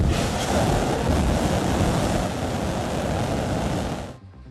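SpaceX rocket engines starting up, a loud continuous broadband roar that holds steady and then cuts off abruptly near the end, with no voices over it.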